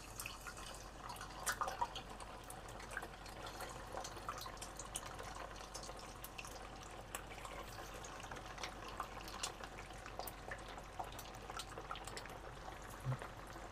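Cut paneer frying in hot oil in a pan: a faint, steady crackle and sizzle with scattered pops throughout, no voices.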